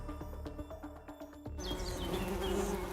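Honeybees buzzing around their hive, a dense, steady insect drone that grows fuller and busier partway through, with no talking.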